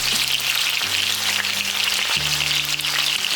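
Pork belly pieces searing in a hot pan for Chinese braised pork belly, a loud, dense, continuous sizzle and spitting close up, with no talking.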